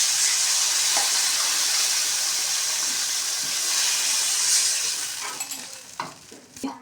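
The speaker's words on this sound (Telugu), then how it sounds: "వాటర్ పోసుకోవాలి." Water poured into a hot pan holding a semolina and curry leaf mixture for uppudu pindi, giving a loud broad sizzling hiss of steam that slowly fades into scattered bubbling and clinks, close up with no voices.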